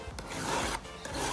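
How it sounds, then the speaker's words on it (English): Short strokes of a hand file scrape the burr off the top edge of an intaglio metal plate, a close rasping sound with three quick passes. "you're just filing the burr off the top edge of the plate"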